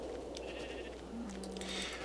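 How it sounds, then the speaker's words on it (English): Sheep in the Minecraft video game bleat a couple of times, short wavering cries over a soft, steady game background with no talking. "Ooh, some sheep."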